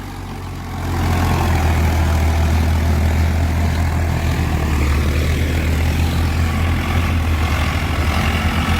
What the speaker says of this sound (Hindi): भाई रडाक बनाई बताइयो कौन सा ट्रैक्टर की तगड़ी है, पुराने मॉडल 855 की या नए मॉडल की फार्म ट्रैक 60 की